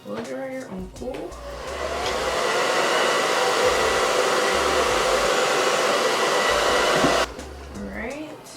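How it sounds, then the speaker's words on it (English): A handheld blow dryer on its cool setting runs steadily for about five seconds while a closure wig is installed and styled, a loud continuous whoosh that cuts off abruptly, with someone talking briefly before and after. "Take my blow dryer on cool."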